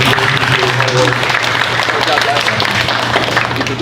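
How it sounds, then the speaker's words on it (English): An audience at a student STLP project event keeps up steady, dense applause throughout, with a low hum beneath and faint voices mixed in. "You can give them one more round of applause for the ones that are here."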